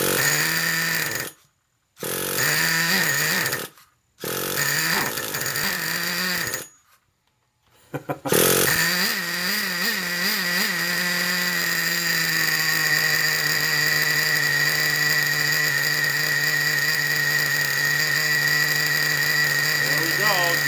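A Traxxas Revo 3.3 nitro RC truck engine cranks in several short buzzing bursts with silent gaps between them, then catches and runs as a loud, continuous high-pitched nitro whine.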